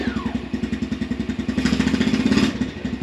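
The single-cylinder engine of an X Pro Storm 150 DLX pit bike, an ultra-light dual sport motorcycle, idles while warming up, with a steady close putter and a slight rise in revs near the end.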